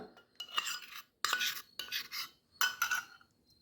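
Brownie batter being mixed as warm melted chocolate is stirred into an egg mixture, a utensil scraping and clinking against a bowl in four bursts of brisk stirring with short pauses between.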